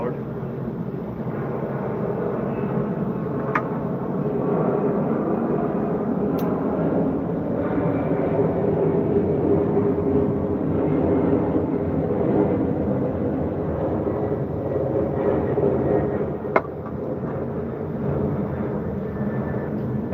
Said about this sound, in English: there's another fucking plane going by. That one's nice and fucking loud.